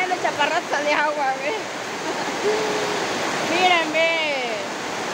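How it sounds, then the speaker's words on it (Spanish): Heavy rain pours down steadily outdoors on an overcast day, a dense, constant hiss heard beneath a voice speaking to onlookers. "miren cómo está cayendo chaparrazo de agua"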